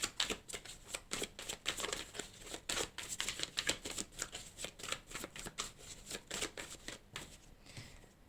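Tarot cards shuffled by hand in dense, rapid bursts of crisp riffling and flicking, close and steady with no talk.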